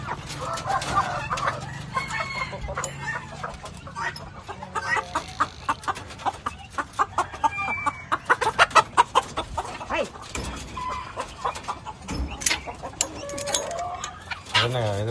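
Fighting roosters on a farm in Sri Lanka cluck in rapid, repeated bursts with occasional crowing, fairly close, amid a busy outdoor background with some voices.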